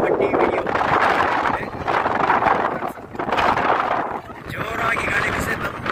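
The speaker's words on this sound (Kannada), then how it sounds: "ಜೋರಾಗಿ ಗಾಳಿ ಬಿಸಿ, ತಮ್ಮದೇ ಗಾಳಿ." Strong wind blows across a hilltop watch tower at Jogimatti in Karnataka. It buffets the microphone in loud, rushing surges that rise and fall every second or so.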